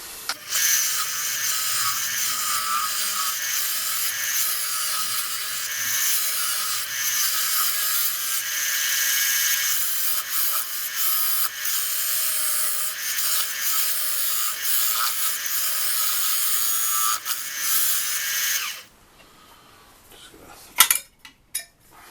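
A hand tool rasps and scrapes steadily against wood, close by, for a long stretch while a wooden apple box is shaped. It stops abruptly near the end, followed by a few faint knocks.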